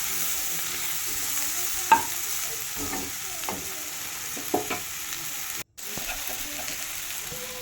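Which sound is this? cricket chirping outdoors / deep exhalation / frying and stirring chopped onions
frying and stirring chopped onions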